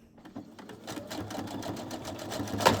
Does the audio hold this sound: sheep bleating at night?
no